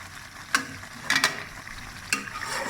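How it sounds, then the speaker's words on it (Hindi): Chicken karahi with yogurt frying in ghee sizzles continuously, broken by several sharp clanks of a spoon stirring against the pan. "इसको तकरीबन 2-3 मिनट में और भूनूंगी ताकि ये घी छोड़ दे"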